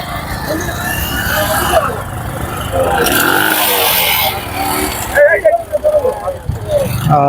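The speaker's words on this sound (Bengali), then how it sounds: "নৌকায় করে আমরা পার হলাম এখন বাইকগুলো নামছে" Motorcycles being driven off a boat, engines revving and idling nearby amid a busy mix of vehicle noise, with people talking over it throughout.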